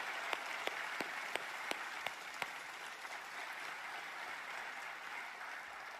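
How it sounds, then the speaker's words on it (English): An audience at the NFL Honors ceremony applauds in a soft, distant wash of clapping, with a few distinct claps at the start before it settles into an even patter. "Give them a round of applause"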